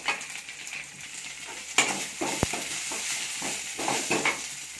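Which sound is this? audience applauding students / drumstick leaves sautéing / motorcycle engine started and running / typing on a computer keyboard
drumstick leaves sautéing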